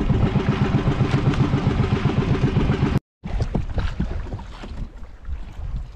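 A small boat's motor chugs loudly in a steady rapid rhythm, then cuts out abruptly, followed by wind buffeting and scattered knocks.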